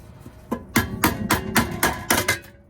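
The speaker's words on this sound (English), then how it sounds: "So what you want to do, hammer this ever so slightly right here." A hammer taps a clip on the rear hub assembly of a third-generation Toyota Prius, about eight sharp metallic strikes in an uneven rhythm, close and clear with no talk.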